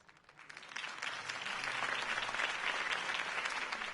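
A large crowd applauds after a campaign speech, clapping swelling from quiet to a dense, sustained roar of hands that stays strong to the end.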